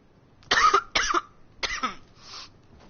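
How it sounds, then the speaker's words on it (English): Four bursts of coughing from one person at close range, three sharp harsh coughs followed by a softer, breathier one, spaced irregularly over a quiet background with a runny nose. "I just keep coughing, and it's really annoying"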